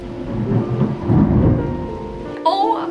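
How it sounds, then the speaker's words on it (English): A thunderstorm with heavy rain at home, a deep rolling thunder rumble over the hiss of rain for about two seconds, then a sudden brighter sound cuts in near the end. "we're having like a full-on storm right now"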